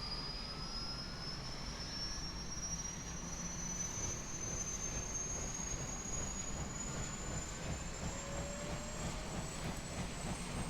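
A UH-1 Huey helicopter turbine in X-Plane 11 spools up steadily, a whine rising slowly in pitch over a constant rumbling engine drone, loud and unbroken throughout.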